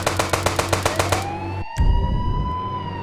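A police car siren in a video game wails loudly in a rapid repeating yelp, then a sharp burst cuts in and a steady siren tone carries on alone.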